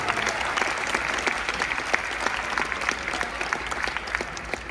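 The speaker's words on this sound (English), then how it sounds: "Let's give them a round of applause." Audience applause at a Future City regional competition awards ceremony, honoring winning student teams; steady, dense clapping from a crowd with scattered sharper claps, sustained throughout at moderate level.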